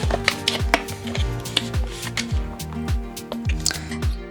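Permanent hair color is mixed in a bowl with quick, rhythmic, wet squishing and scraping strokes, close and evenly spaced, with no talk.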